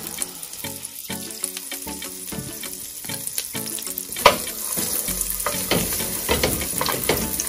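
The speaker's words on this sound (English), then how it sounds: "I'm gonna add my butter." Butter melting and sizzling in a hot pot for black eyed peas, a soft crackle with clattering stirs and utensil knocks, alongside background music.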